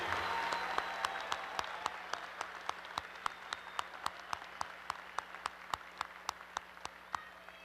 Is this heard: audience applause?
yes